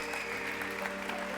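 A church congregation claps during a Spanish-language sermon, steady close applause over a faint sustained musical drone throughout the brief moment.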